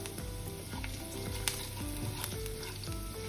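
Mustard seeds and rice tempering in hot oil for bread upma crackle and splutter steadily, with dense sizzling and sharp pops close up, no voices.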